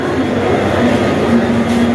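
A train pulls into a busy station on the Mumbai to Konkan route, a close, loud, continuous rumble with a low steady hum throughout.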